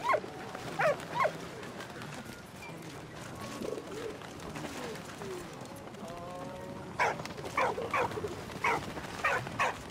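A dog in the war game Valiant Hearts gives several short sharp barks and whimpers at the start and again near the end, with pigeon coos and ambience between them.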